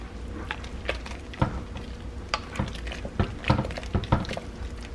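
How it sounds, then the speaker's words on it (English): Soup stirred in a crockpot with a utensil, giving soft irregular scrapes and light clinks against the pot, fairly quiet and close, with a few sharper knocks. "Give it a good stir."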